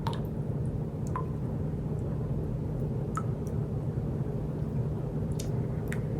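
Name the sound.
stirring broth and crushed tomatoes in a pot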